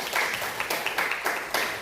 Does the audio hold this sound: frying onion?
no